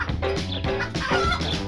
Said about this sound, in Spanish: El gallo viene a cargar nafta.